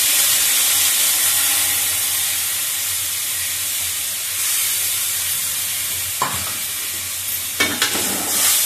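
Masala spice paste fries in hot oil with a continuous bright sizzle and hiss close by, broken by a couple of quick stirring scrapes near the end, no talking.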